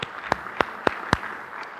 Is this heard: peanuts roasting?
no